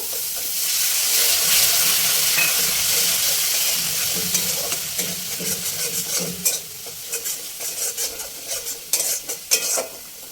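Frying masala for a tangra fish tel jhal sizzles loudly and hisses as a splash of bowl-rinsing water hits the hot pan, the roar easing into lighter crackling with spoon taps and stirring scrapes.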